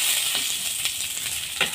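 Steady crackling sizzle of dried red chillies and curry leaves frying in a hot pan, with a few sharper pops standing out above the continuous hiss.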